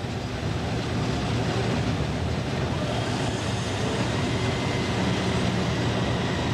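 A Class 304 electric multiple unit train bound for Hadfield passes close by near Guide Bridge, giving a steady, loud rumble of wheels and motors that fills the whole stretch without letup.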